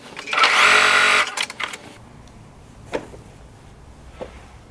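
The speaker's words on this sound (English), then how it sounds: "now I'm going to go ahead and stitch from one end all the way down to the other end." A sewing machine stitching fabric seams for a pair of shorts gives a loud, close whirring burst of about a second, followed by a few quieter clicks and handling knocks.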